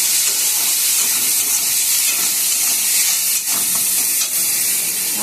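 Onion, garlic, ginger and tomato paste sizzling and frying in a pan while being stirred: a steady loud hiss of frying with faint scraping of the stirring utensil, continuous and close, with no talking.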